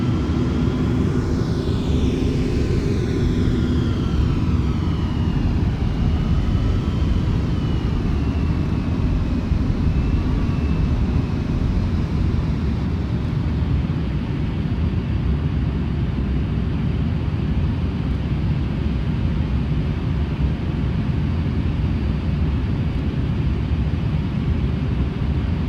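Steady, loud jet engine rumble and whine from a Boeing 747 taxiing in Flight Simulator X, continuous and unchanging with a faint descending whistle early on.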